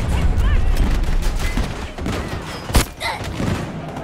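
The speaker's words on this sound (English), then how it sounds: "Oh, I got sniped" A sniper shot lands in the Battlefield 2042 shooter game, one sharp crack standing out near the end amid busy battle noise and scattered gunfire.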